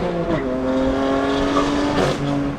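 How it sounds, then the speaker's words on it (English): BMW M2 Competition fitted with a Valvetronic equal-length exhaust in Sport Plus mode, engine tone sliding down as the exhaust lets out pops and cracks, close and loud, no voices. "You get tons of pops and cracks if you're in the Sport Plus mode"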